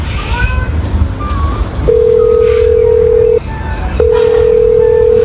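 A telephone call connecting: faint dialing beeps lead into two long, steady ringback tones separated by a short gap, loud and clear over a low background hum.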